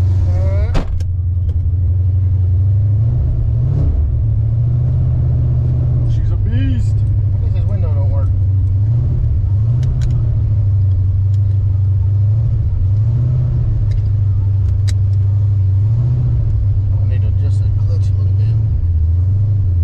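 A 331 stroker engine in a GT car idles with a loud, deep, lumpy rumble close by, rising in brief rev swells now and then, while a person talks over it.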